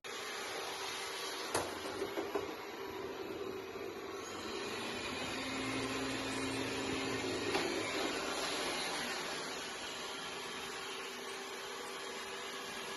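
Dreame D9 robot vacuum running steadily over carpet indoors, a continuous broadband whir at moderate level with a faint tonal hum and a couple of brief knocks, no voices.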